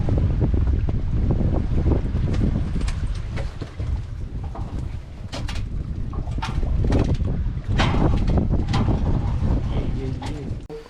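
A boat heads back out on the water after dropping passengers at a forest landing in Shendurney, its low engine drone steady and loud under heavy wind buffeting, with voices talking nearby.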